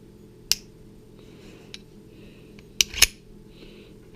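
Gun part snapping into place on a firearm project with a stiff recoil spring, heard as a few sharp, isolated clicks spread across a quiet background, the loudest pair close together near the end.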